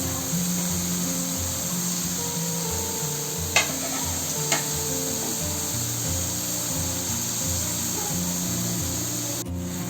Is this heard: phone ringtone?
no